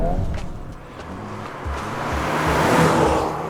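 A Volkswagen Golf R 8.5 driving fast on a winding road, engine note rising and swelling as it accelerates past, loud and close with road roar building toward the end.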